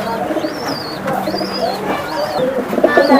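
A racing pigeon coos close up in a series of about four rising and falling calls at a steady pace, with faint background noise underneath.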